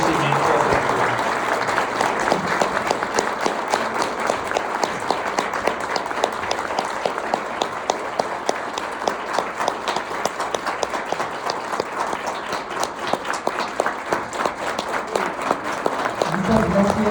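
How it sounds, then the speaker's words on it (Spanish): Sustained audience applause at a lecture event for Minister Juan Luis González, dense steady clapping from many people lasting the whole stretch, with some voices mixed in. "le vamos a dar un gran aplauso de reconocimiento y de agradecimiento"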